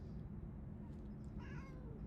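A cat meows from up in a tree where several cats have climbed, a short faint call rising briefly above a steady low outdoor rumble.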